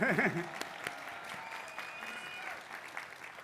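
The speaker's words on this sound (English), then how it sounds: "Please give an applause to them, please." Applause from a commencement audience at a college of engineering ceremony is loudest at the start, under a brief spoken voice, then settles into a thinner, fainter spread of clapping that continues to the end.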